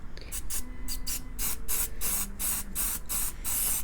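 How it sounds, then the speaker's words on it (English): A rapid series of short aerosol hisses of Apple Garde protector spray on a Louis Vuitton leather bag strap, about a dozen quick pumps in an uneven rhythm, close to the listener. "I'm gonna spray it"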